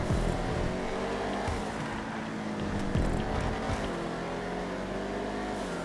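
Vigero ZX muscle car engine in a GTA 5 race, a steady loud low roar with rev swells and gear changes, continuous and close throughout.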